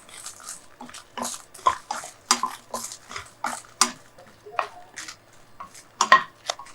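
Vegetables roasting in coconut oil are stirred steadily with a utensil, giving close, repeated scraping and clinking strokes against the pan in an uneven rhythm.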